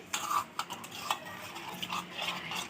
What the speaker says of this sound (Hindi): अब हमने इसको अच्छे से मिक्स करना है